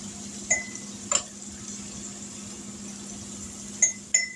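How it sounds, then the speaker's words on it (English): A spoon scrapes and clinks against a glass jar as sauce is scooped out, a few sharp taps spaced apart over a steady low kitchen hum. "Let me grab this jar and a spoon. And we're just going to spoon this out of here tonight."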